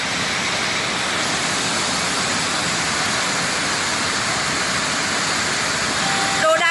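Floodwater rushes through a flooded residential area in Ha Giang near the Chinese border during heavy rain, a steady loud roar of broadband water noise that continues unbroken throughout.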